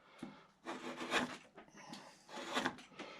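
A hand chisel pares and smooths ridges on a large wooden Bellamy eagle carving, without a mallet. There are two bursts of close, scraping strokes, each made of several quick cuts with short pauses between them.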